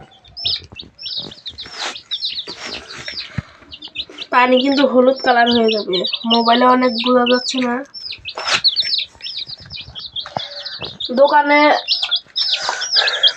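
Many young chicks in a poultry brood peep continuously in high, rapid chirps close by, while someone talks over them in stretches and an adult hen clucks now and then.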